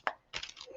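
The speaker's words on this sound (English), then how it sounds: "I'll see if one flies out while I'm shuffling." A slippery tarot deck being shuffled by hand, heard as two quick, close papery bursts of card riffling separated by a brief pause.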